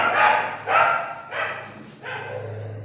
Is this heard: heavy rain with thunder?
no